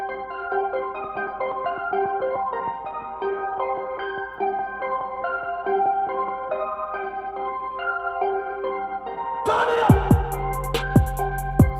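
Hip-hop beat built on a melodic sample slowed to half tempo, sustained layered tones playing steadily, then punchy drums and hi-hats kick in near the end at full pace, loud and clear with no talking.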